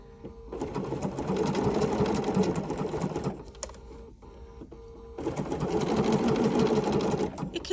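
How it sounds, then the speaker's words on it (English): A Bernina sewing machine fitted with a double cording foot runs a small zigzag stitch, two sustained bursts of steady, fast mechanical whirring and clatter with a quieter pause between them, close and fairly loud. "now I'm going to pick stitch number 2, which is a little zigzag stitch"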